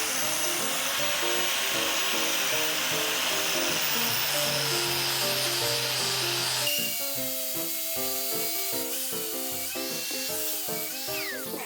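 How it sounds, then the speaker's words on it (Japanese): A nylon abrasive disc on a power tool grinding a rusty axe head: a loud, continuous whirring grind with no pauses, whose tone shifts partway through as the contact changes. "荒削りができるのがどのディスクなのかっていうのを確認しながら削っていってみようと思います。"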